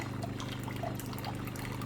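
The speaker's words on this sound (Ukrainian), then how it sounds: "Бачите, вона просто пропускає воду" A broken coffee machine lets water run straight through, producing a steady low trickle and hum of flowing liquid, close and continuous.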